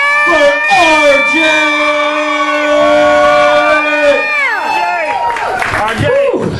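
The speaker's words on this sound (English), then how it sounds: "make some noise, scream for RJ" Crowd at a live event cheering and screaming, a dense sustained roar of high wailing voices and shouts, loud and near.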